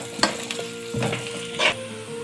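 Beef frying in a pan with dry spices for beef pulao, a steady close sizzle with stirring clatter and a few louder bursts of spitting oil, no talking.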